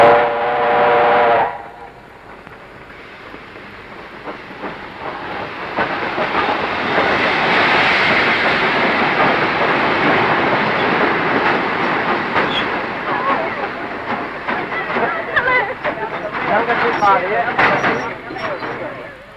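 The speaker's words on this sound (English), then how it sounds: "here comes the train" An old train pulls into a station, rumbling and clattering loudly with hissing steam, as wheels clack on the rails and the noise swells, then eases off.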